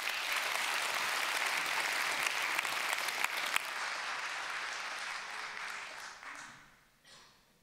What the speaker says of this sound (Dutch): Geef ze een groot applaus.